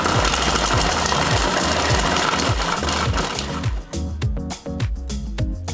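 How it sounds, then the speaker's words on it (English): Dates are ground in a running food processor, which makes a loud, steady motor whir with rhythmic chopping pulses. Near the end it shifts to uneven knocking bursts as the blades catch the sticky fruit. "We put the dates in the food processor."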